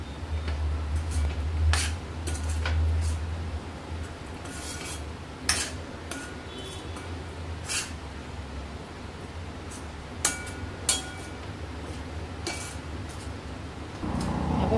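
Leftover tomato rice being mixed in a pan with a metal spoon: repeated scraping, stirring and clinking against the pan, close and steady, with a few sharper knocks.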